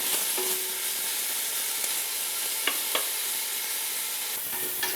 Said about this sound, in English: I wanna just fry this up for about 4 to 5 minutes just to get a nice golden color and really flavor up my pan